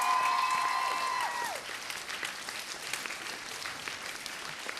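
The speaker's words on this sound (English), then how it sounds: "Let's give Phil a round of applause as well." Audience applause at the last-night thanks of a variety show, a dense, steady clapping that starts loud and thins out slightly while continuing, with a brief musical tone fading out at the start.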